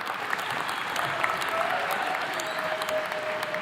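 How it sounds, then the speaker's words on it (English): Audience at a USC Price 2024 commencement ceremony applauds staff and security personnel, a steady wash of many hands clapping throughout, moderately distant, with a faint tone underneath. "Please join me in applauding them."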